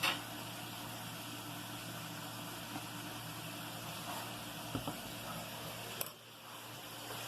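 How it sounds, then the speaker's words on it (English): Chicken deep frying fully submerged in hot grease inside a deep fat fryer, a steady dense bubbling hiss that holds without a break for several seconds, with a faint clink near the end. "And I mean, it is getting down with the frying."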